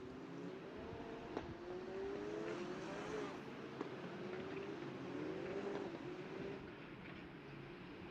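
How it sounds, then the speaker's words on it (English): Race cars at Jerez approaching the starting grid, engines whining and shifting pitch as they pass at a distance, fairly faint against a steady background hum. "So cars are approaching the grid"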